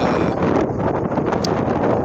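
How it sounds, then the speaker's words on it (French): Outdoor wind beside the Canal de Saint-Quentin near the Oise buffets the microphone, a loud rumbling, gusty rush that stays close and steady throughout, with no talking. "il y a du vent, j'espère que ça va pas trop perturber la vidéo"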